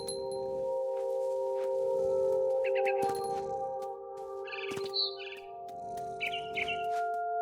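Bird chirps ring out in the video game What Remains of Edith Finch, a few short, bright tweets around the middle and end, fairly faint over a steady tonal music bed and soft ambient wind.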